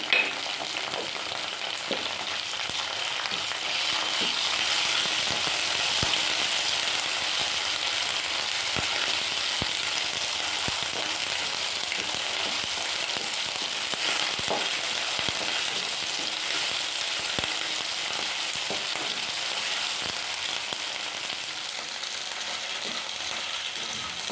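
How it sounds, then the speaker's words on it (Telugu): Ginger garlic paste fries in a pan for boti curry, a steady soft sizzle running throughout with scattered light clicks of stirring. "ఇలా ఎర్రగా వేసుకున్న తర్వాత అల్లం వెల్లుల్లి పేస్ట్ వేసుకోవాలి"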